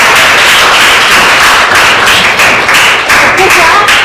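A classroom of students clapping together after a group presentation, a steady, close, busy patter of many hands at full loudness for several seconds.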